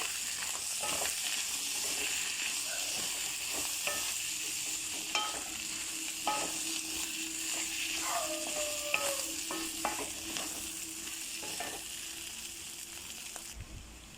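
A spoon stirs aloo mutter keema in a hot pan, scraping and clinking against the metal over a steady soft sizzle of frying, close and continuous.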